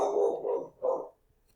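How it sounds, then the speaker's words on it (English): One dog gives three quick close barks in a short run, then goes quiet. "Please excuse my dog barking in the background."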